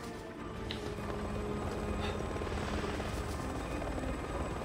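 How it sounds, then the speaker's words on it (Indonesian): A helicopter in the video game Resident Evil 6 drones steadily with a rotor whir, loud and continuous from start to finish with no voices. "Oh tidak, aku harus menghindari helikopter itu."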